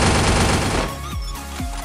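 Rapid automatic gunfire in the Free Fire battle royale game, a dense continuous burst of shots up close that thins after a second into a few louder separate cracks.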